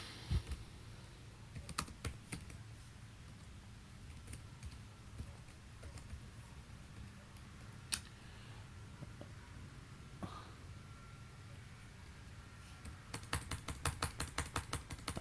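Code typed on a computer keyboard while programming on Linux, soft irregular key clicks scattered through quiet room tone, then a faster burst of typing near the end.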